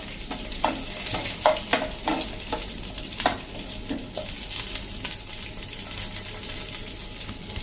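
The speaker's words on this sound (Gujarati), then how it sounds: "અને 1 ટીસ્પૂન આપણે અડદની દાળ લીધી છે, અને એને આપણે થોડી મીડિયમ ફ્લેમ ઉપર આ રીતે કૂક કરી લેશું." Urad dal frying in a pan over a medium flame, a steady close sizzle and crackle with sharp spitting pops scattered through, no voices.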